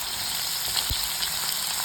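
Food frying in leftover fish-frying oil, a steady close hiss and sizzle with a soft stir or bump partway through, no talk.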